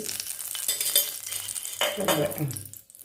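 Ghee heating gently in a pan on the stove for a Kerala iftar dish, giving a steady soft sizzle with light stirring and utensil scrapes against the pan, close and continuous without talk.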